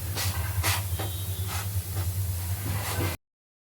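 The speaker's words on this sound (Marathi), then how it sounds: "आपले स्नॅक्स भाजतच आलेले आहेत तरीही थोडा वेळ आपण त्यांना तव्यावर" Bread matar snacks roasting on a hot tawa griddle give off a steady, close hiss of steam and sizzle over a low constant hum, with a few brief brighter bursts, until the sound cuts off abruptly.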